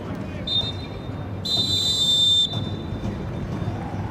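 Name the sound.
referee's halftime whistle at soccer match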